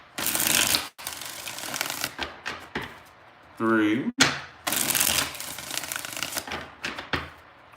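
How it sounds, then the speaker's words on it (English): Tarot cards being riffle-shuffled by hand in several quick bursts of crisp fluttering clatter separated by short pauses, close and clear, with a voice counting the shuffles in between. "Let's get 5 shuffles here."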